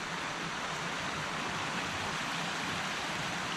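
Rain falling through woodland trees beside a flowing creek, Little Laurel Run on the Quehanna Trail, makes a steady, soft, even wash of water noise with no breaks, fairly faint and with no voices.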